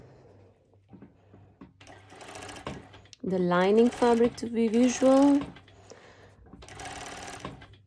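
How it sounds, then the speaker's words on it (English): An industrial sewing machine runs a cover stitch in short bursts of rapid mechanical whirring, close by, with someone talking over part of it. "So as you can see, I'm doing a cover stitch. This is my industrial sew machine"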